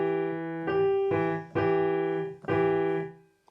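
Two piano notes, one from each hand, struck together in a steady pecking rhythm of four clear chords with brief gaps, each ringing briefly before the next, played alone without talk.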